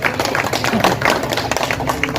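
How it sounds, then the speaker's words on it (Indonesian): Hands clap in a crowd at a Maulid Nabi gathering attended by the governor, a close, busy patter of individual claps with some crowd noise mixed in, all at fairly high level. "Tepuk tangan."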